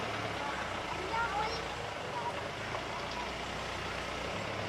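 A road vehicle turns around in a narrow gap in rubber plantation country. Its engine gives a steady, fairly close rumble throughout, with voices faintly present.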